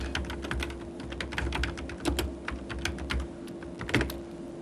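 Typing on a computer keyboard, a quick irregular patter of close key clicks with a couple of louder strokes over a low steady hum.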